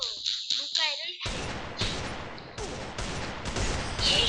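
Bursts of gunfire in the mobile shooting game Free Fire crack out in rapid, closely spaced volleys, loud and near, following a few brief quieter game sounds.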